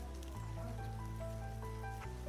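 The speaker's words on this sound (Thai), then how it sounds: "นี่ภูเขาฝนตกค่ะบริเวณสวน" Steady rain falls on a blueberry garden in the mountains, a dense continuous patter with a low constant hum underneath and no voices.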